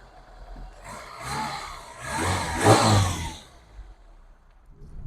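A Vauxhall Nova car engine revs in two rising and falling bursts, moderately close, fading back to a quieter idle afterward with no talking over it.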